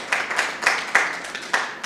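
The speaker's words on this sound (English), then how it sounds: "Please a round of applause for Perry." Scattered, thin applause from an audience at a communication master class, a few light clusters of claps rising and fading over about two seconds rather than a full ovation.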